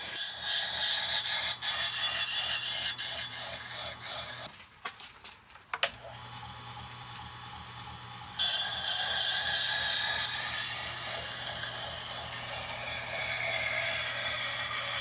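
A chef's knife grinds against the turning wheel of a Tormek T-1 kitchen sharpener, a steady rasping scrape with a rhythmic pulse, briefly dropping to a quieter whir before the grinding resumes loudly.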